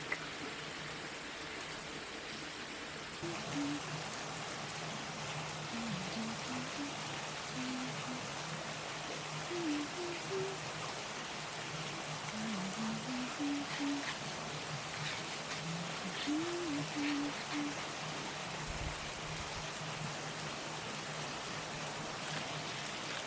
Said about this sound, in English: I think it might be raining.